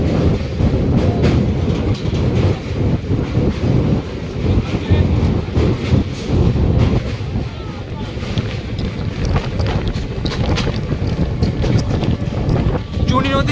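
A MEMU passenger train rumbles across the Chuni river rail bridge on the Sealdah–Lalgola line, a loud, continuous rolling roar with rattling and wind buffeting the microphone, heard from on board.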